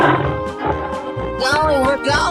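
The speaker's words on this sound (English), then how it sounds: "tiger" A tiger in a 3D animal slide-race video game roars loudly and up close in a couple of rising, growling bursts, with a voice speaking alongside.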